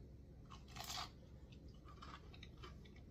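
Biting into a crunchy deep-fried leftover taco breaded with crushed tortilla chips: one loud close crunch, then quieter crisp chewing crackles at an uneven pace.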